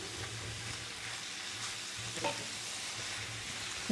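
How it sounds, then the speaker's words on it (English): Cabbage, arugula and pac choy sautéing in a pan, a steady soft sizzle with a spatula scraping and stirring across the bottom, close and continuous with a slightly louder scrape midway. "So I'm just sort of scraping the bottom of the pan."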